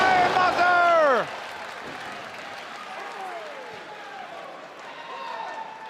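Ring of Honor wrestling crowd during a Kevin Steen match: a dense, steady roar of cheering and applause filling the arena, with a commentator's voice rising over it at the start and again later.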